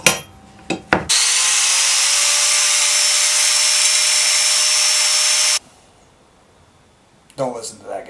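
An angle grinder grinds rust off cast iron cookware, a loud, steady, high-pitched whine that runs for several seconds and stops abruptly, with brief clatter before it and a voice after.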